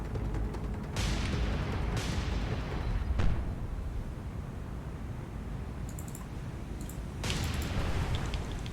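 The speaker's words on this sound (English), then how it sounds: "Just fire torpedoes at this thing." Torpedoes launch from a ship in the naval combat game War on the Sea, with several heavy booming bursts over a constant roar of sea and engine noise and no voices.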